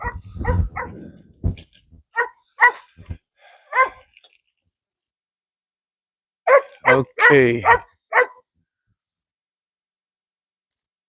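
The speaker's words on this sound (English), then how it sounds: "Every morning, these dogs get energized because they sleep all day, all night." Several dogs let out short, sharp barks and yips in two bursts separated by silence, close and fairly loud, with a brief spoken word among them.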